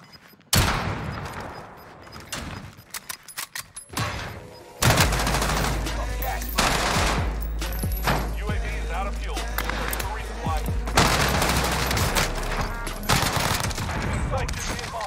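Hip-fired bursts from a Bullfrog submachine gun in a first-person shooter game, with a few sharp shots early and then long rapid automatic bursts, loud and close, with a voice talking over parts of the firing.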